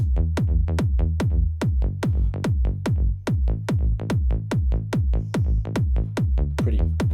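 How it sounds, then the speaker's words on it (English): A loud, steady electronic kick drum pounds in an even rhythm, each hit fused with a deep, booming bass that swells between beats. No voices. "So together, the kick and the bass sounds like this."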